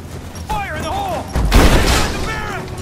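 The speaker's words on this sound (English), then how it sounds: "Throwing a grenade!" A grenade explodes in Rise of the Tomb Raider with a single heavy, close boom and a burst of debris and noise, following shouted in-game soldier voices.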